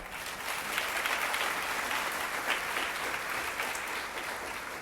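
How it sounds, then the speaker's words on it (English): A crowd at a charity grant celebration gives itself a round of applause, a continuous, fairly distant wash of clapping hands that holds steady throughout without speech. "So please give yourself a round of applause as well."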